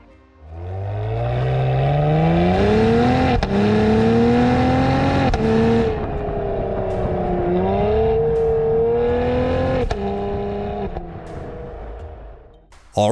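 A 2021 Cadillac CT5-V sedan with a 3-liter twin-turbo V6 rises in steady, rising engine note while driving, loud and close, holding a sustained drone with brief gear-change dips and no talk.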